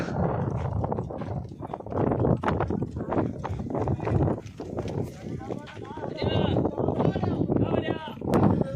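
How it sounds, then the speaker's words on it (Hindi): A racehorse at a rewal race event moves with steady clip-clopping hooves while several people talk loudly nearby throughout. "जो आप देख रहे थे काफी टाइम से ये प्रैक्टिस में था, वही घोड़ा है भुट्टा।"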